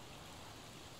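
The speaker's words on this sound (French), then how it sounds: "je pense que je vais juste attendre qu'il arrête de pleuvoir" Rain pours in the video game The Legend of Zelda: Tears of the Kingdom, a steady dense hiss of falling drops that stays even and unbroken, with no other sounds standing out.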